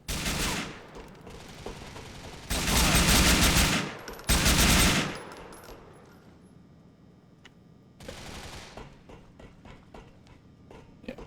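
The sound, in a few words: AK rifle gunfire in GTA IV video game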